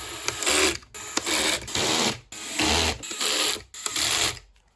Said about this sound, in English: I have my chuck set to 6 on my DeWalt. And I'm going to start with these 2 upper ones.